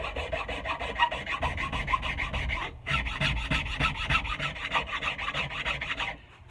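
A rasp files steadily along a wooden axe handle to smooth it during re-hanging, making a loud, continuous scraping of quick back-and-forth strokes, with one brief pause partway through.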